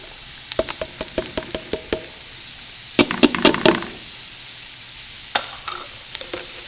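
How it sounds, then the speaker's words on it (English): Mirepoix vegetables for a vegetable stock tumble into a stock pot and get stirred, giving bursts of close clattering knocks and rustles with a louder scraping tumble partway through. "And then we're also going to dump in our mirepoix."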